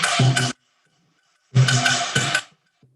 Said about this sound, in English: when the timbali player is playing the side, the cascara